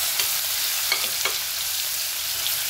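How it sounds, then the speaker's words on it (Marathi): Finely crushed garlic sizzles in about two spoons of hot oil, a steady close hiss broken by a few soft stirring clicks, with no talking. "आपल्याला लसूण जाळायचं नाही, नुसतं असा थोडा कलर बदलेपर्यंत याला परतून घेऊ"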